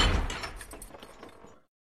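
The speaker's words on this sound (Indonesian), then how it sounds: "tiba-tiba petugas mengunci pintu." A carriage door is locked with a short mechanical clunk and a rattle of latch parts, loud at first and then fading over under two seconds before silence.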